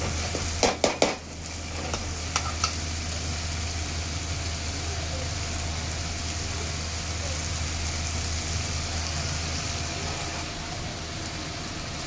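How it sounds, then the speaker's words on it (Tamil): Cleaned squid sautés in a pan, giving a steady frying sizzle with a low constant hum beneath it, after a few sharp clanks at the start as the pieces go in; no one speaks. "நல்லா வதங்கின உடனே நம்ம க்ளீன் பண்ணி வச்சுருக்கிற கடம்பாவை அது கூட சேர்த்துக்கலாம்"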